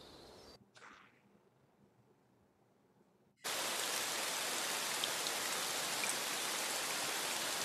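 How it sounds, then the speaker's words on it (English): After a few seconds of near quiet, a loud, dense downpour suddenly begins and roars on steadily, a thick wash of falling rain. "and heavy rain"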